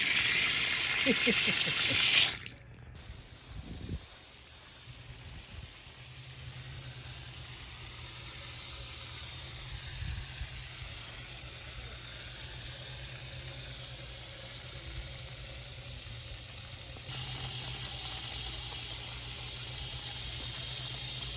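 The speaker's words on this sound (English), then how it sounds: "Hot water spigot, baby." Hot water from a newly installed outdoor shower spigot plumbed with PEX pipe hisses in a steady, fairly faint stream after an initial louder gush, with the flow strengthening again near the end.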